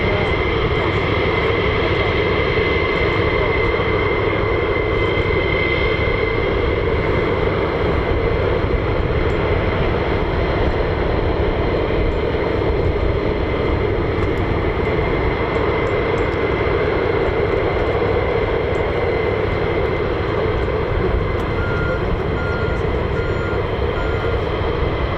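A US Air Force F-15 or F-35 fighter jet roars steadily at RAF Lakenheath, a loud, continuous broadband engine rumble that holds for the whole stretch without easing off.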